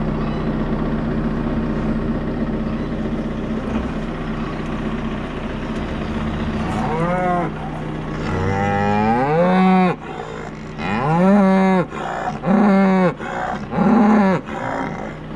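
Fresh Hereford heifers moo loudly and close by, several long, rising and falling bellows coming in quick succession after a stretch of low rumbling background noise.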